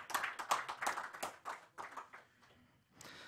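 A small audience at a political party press conference claps in a short burst of distinct hand claps that thins out and fades, with a brief patter returning at the end.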